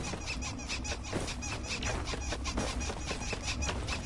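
Repeated squealing damage hits on the player character in the video game Risk of Rain, a busy stream of shrill, rapid bursts layered over a dense, noisy game soundscape with no speech.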